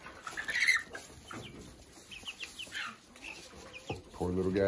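Chickens clucking and squawking close by while feeding, in short irregular bursts against a quiet background, louder at the end.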